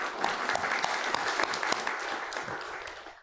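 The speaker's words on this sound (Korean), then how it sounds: "우리 박수 한번 하나님께 신앙 고백으로 드립시다" A church congregation claps together in steady rhythmic unison, a dense roomful of hands beating at a brisk even pace for a few seconds before it stops abruptly.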